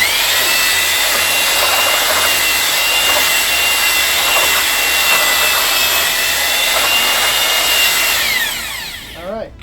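Power drill with a paddle spinning concrete mix in a bucket for a DIY bench, a loud, continuous grinding whir with scraping texture that holds steady for about eight seconds before winding down.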